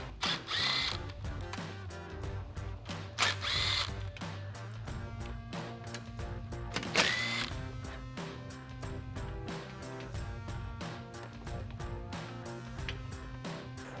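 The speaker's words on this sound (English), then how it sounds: "use a combination of a clip removal tool and a 7mm socket on my impact to remove the 4 screws" An impact driver fitted with a 7mm socket spins out screws while a 2015-2023 Mustang front bumper is taken off. The tool gives close, loud whirring bursts with rapid hammering clatter and short pauses between runs.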